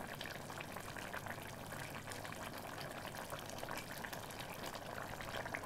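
Green bean and meat stew bubbles gently in a covered pot over low heat, a steady soft simmer of small bursting bubbles throughout, faint and continuous.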